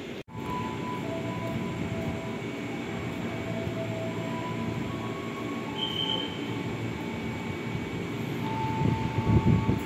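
An Argo Parahyangan passenger train runs past Tambun station, a continuous loud rumble of wheels on rail with sustained tonal squeals and rising clatter toward the end.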